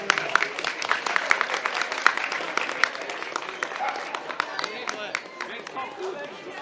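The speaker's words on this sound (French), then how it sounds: "On peut les applaudir bien fort" Applause from an audience at a 2017 dog show in Châlons, greeting the three best dogs: dense, steady clapping with crowd chatter and voices mixed in, lasting throughout.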